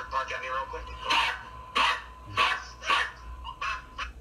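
A person imitates a dog barking with a quick string of about seven short, loud, gruff woofs and yips, delivered close to the microphone.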